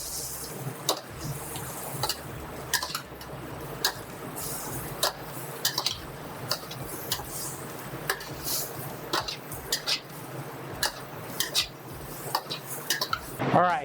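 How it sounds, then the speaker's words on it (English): Carrots go into a pan of cooking onions and celery for Thanksgiving stuffing, bringing repeated sharp clinks and scrapes of a utensil on cookware over a low, steady sizzle, close by and irregularly spaced, with no talking. "We're going to add in our carrots."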